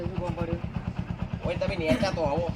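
A motorcycle idles at a garage with a steady, rapid low putter that runs throughout, nearby, while people talk over it.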